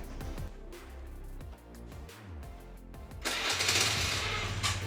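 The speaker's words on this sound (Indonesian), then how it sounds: "kita cek sound Vario ini ya teman-teman." A used Honda Vario scooter's engine turns over and catches, with uneven mechanical bursts giving way to a loud, steady, close running noise in the last second and a half.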